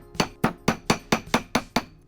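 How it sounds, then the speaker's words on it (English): Metal wire for a bangle cuff bracelet hammered against a flat metal surface: eight crisp, evenly spaced strikes in a steady rhythm, close and fairly loud, with no talking. "I'm able to fix that by hammering it on a flat metal surface to create this straight shape."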